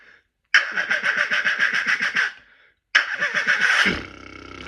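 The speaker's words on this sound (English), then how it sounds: "Starting a motorbike." Motorbike engine starting as a sound effect: a rapid rhythmic cranking churn that stops, then a second crank that catches and settles into a steady idle, loud and close with no talk.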